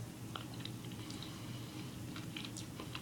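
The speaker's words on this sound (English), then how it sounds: "I was feverishly lapping at the bottom of the pretzel crisp with my tongue for a moment before I started crunching it" Buffalo wing pretzel crisps crunch in scattered crisp bites while being chewed close to the microphone, with a steady low background hum and no talking.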